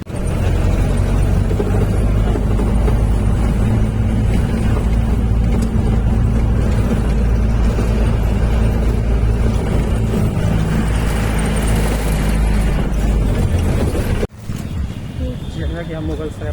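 A loaded passenger vehicle bound for Mughal Sarai from Banaras rumbles along with a steady low engine and road drone, loud and continuous, then cuts abruptly near the end to a quieter interior; voices murmur underneath.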